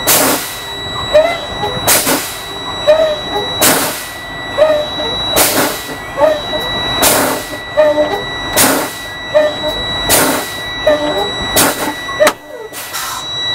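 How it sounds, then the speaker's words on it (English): Repeated sharp hissing bursts of air pressure from a truck's brake system, released about every 1.5 seconds by pressing the service brake, loud and close, with a person talking in between. "I'm going to release the air pressure again by pressing on the service brake"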